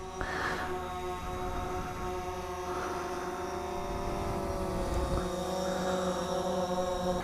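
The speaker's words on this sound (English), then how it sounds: "pushing this stick forward would make the drone go forward" A camera drone with forward collision avoidance flies nearby, its propellers giving off a steady, fairly loud electric buzz with a constant pitch that holds through the whole stretch.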